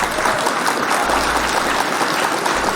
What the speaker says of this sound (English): let's hit the claps for a brand new addition to a great family